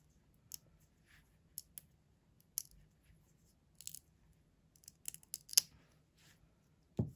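Scissors snip through soft craft wax in a series of sharp, crisp clicks, spaced irregularly and close up, alone in a quiet room with no talking.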